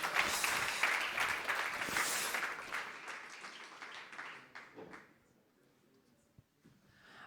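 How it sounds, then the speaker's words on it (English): An audience at a sustainability sports pitch event applauds a team on stage, dense clapping that is loud at first and then thins out, fading to scattered claps and near quiet. "Big applause for the energy team, Voltastic"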